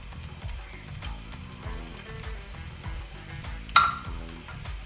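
Onions and ginger hit hot oil on a high flame for an Indian tomato gravy, giving a steady, close sizzle with crackling throughout and one sharp clink of utensil on pan near the end.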